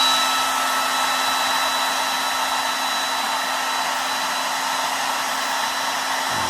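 A heat tool blows steadily and close by to dry paint on a goldfinch painting, a constant airy whoosh with a faint motor whine and no talk.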